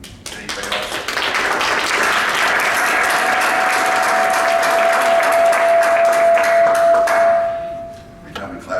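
Applause fills a city council meeting room, a dense burst of clapping that swells and holds for several seconds. Midway a steady electronic alarm tone sounds beneath it, then the clapping and tone fade together.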